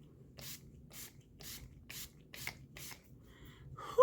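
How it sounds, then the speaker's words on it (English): Makeup setting spray mists onto a face in a series of six short, evenly spaced hissing bursts, close and fairly soft, with no talking. "we're gonna go ahead and spray the face"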